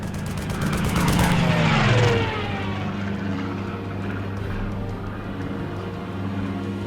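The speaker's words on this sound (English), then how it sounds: "A German fighter plane?" A German fighter plane in the Lost Horizon video game roars in loudly, then its engine drone falls in pitch and fades as it flies past and recedes into a low background rumble.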